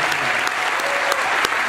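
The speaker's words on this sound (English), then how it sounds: "give our students one more round of applause" A crowd applauds, with dense, steady clapping filling the space at a moderate distance.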